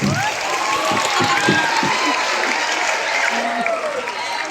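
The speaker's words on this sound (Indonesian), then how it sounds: "Jadi apresiasi kita terhadap anak-anak ensemble, terutama pembina ensemble Ibu Sumi, berikan aplaus dulu." A school assembly crowd at a flag ceremony claps in a dense, sustained round of applause for the student ensemble and its teacher, steady throughout the stretch with a voice or two talking faintly underneath.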